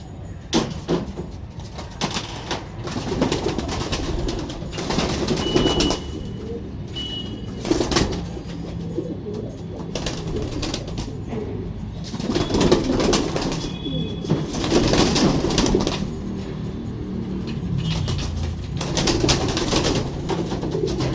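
Pigeons on a rooftop, with repeated bursts of wing flapping and fluttering from a flock taking off and landing nearby, plus occasional soft cooing and clattering knocks over a steady outdoor background.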